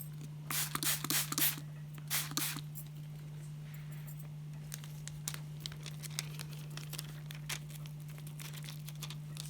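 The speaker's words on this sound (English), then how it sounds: "I'm just using a tissue to smooth out the bubbles on this" Tissue rubbed over freshly glued paper on a party decoration, soft crinkling and brushing strokes clustered early then lighter scattered rubs, close and quiet over a constant low electrical hum.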